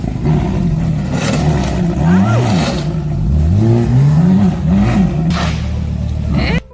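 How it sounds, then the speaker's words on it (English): A $3 million LaFerrari is floored and driven hard, its engine revving loudly in repeated rising and falling sweeps, close and aggressive, before cutting off abruptly at the end. "he proceeded to floor the car and drive it too quickly, causing it to overheat"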